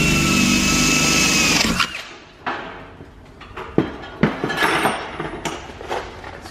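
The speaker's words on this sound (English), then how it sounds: "We're going right into drilling a hole right into the purlin" A drill boring a hole into a steel purlin, starting with a loud steady high-pitched whine that cuts off, then a string of sharp metallic knocks and clanks spaced irregularly, close by.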